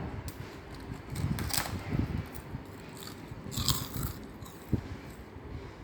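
Several crisp crunching bites into a thin fried sorghum (jowar) papad, each snap sharp and close, spaced irregularly with faint chewing between them.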